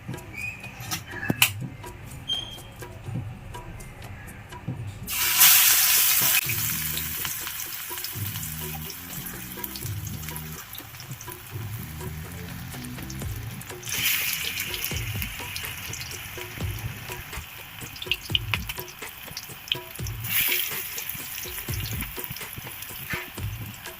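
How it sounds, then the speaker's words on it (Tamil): Banana flower vadai frying in hot oil in a kadai, a steady close sizzle and crackle with bursts of louder bubbling as pieces go in, alone without talk. "வானலில் எண்ணெய் அடுப்பில் வச்சாச்சு எண்ணெயும் காஞ்சிடுது இப்போ நம்ம வடையை தட்டி எடுக்க வேண்டியது தான்"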